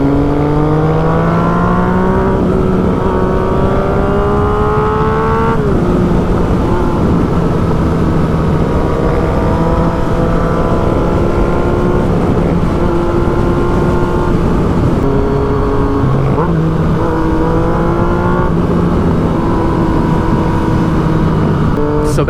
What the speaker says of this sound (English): Those downshifts sound so sweet.